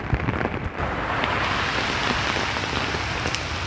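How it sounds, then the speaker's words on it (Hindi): Rain falls steadily on a London street during a walk past a bus stop and two-way traffic, giving a close, even patter and hiss that holds throughout with no talking. "मैं बारिश को एंजॉय करने के लिए इस वक्त वॉक कर रहा हूँ।"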